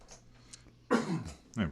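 A man's cough on a call-in radio show: a burst near the middle followed by a second shorter cough, loud and close, after a quiet stretch of faint background noise.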